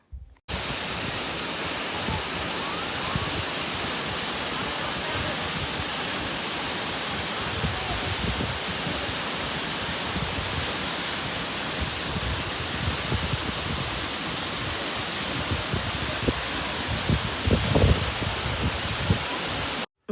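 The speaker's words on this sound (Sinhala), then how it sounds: "මං කියවන එක පොඩක් නතර කරලා මම මේ දියඇලේ සුන්දරත්වය ඕගොල්ලන්ට විඳින්නත් ඉඩ සලසලා දෙන්නම්" Bomburu Ella, also called Perawella, a wide waterfall in Sri Lanka's hill country, roars as a steady, dense rush of falling water that fills the whole scene without a break and with no voices.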